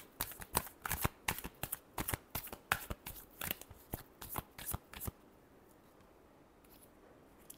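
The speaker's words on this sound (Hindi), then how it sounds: "Last shuffle." A deck of tarot cards is shuffled by hand in about fifteen quick, crisp riffles for roughly five seconds, each one close and sharp, and then it goes quiet.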